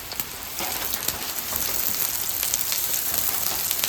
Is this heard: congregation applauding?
no